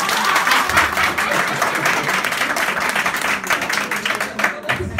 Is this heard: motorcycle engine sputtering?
no